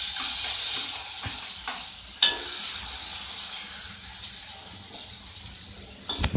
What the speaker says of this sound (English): Let's saute a little bit down